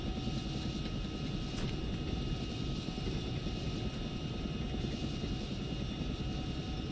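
A Chinook twin-rotor helicopter being pushed hard in flight, its dense, steady engine and rotor roar filling the scene continuously and loudly without a break, with no voices over it.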